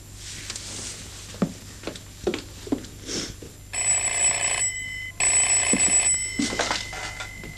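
An old telephone bell rings indoors in two long bursts with a pause between, set over soft room sounds and light movement noises.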